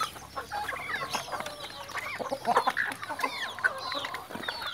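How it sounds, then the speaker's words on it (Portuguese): Several chickens and a rooster on a farm cluck in a busy, overlapping flock, with sharp calls rising throughout at close range and a steady low murmur of fowl underneath. "Olha esse galo aqui, ó."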